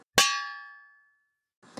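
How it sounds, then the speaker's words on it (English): A single bell-like clang strikes once and rings out with a long, clear decaying tone over about a second, followed by a faint rustle near the end. "the bell rings at your new school at 3:15"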